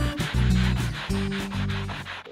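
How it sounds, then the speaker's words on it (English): Wooden ramp steps are sanded smooth after their sharp edges were planed off, producing several close, loud back-and-forth rubbing strokes in a steady rhythm, with no voices. "The sharp edges of the steps are removed with a plane, then sanded smooth"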